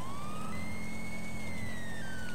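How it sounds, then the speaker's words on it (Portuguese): A police car siren from GTA V Online wails with a rising and falling tone, loud and steady over low engine rumble and traffic noise. "o policial liga a sirene."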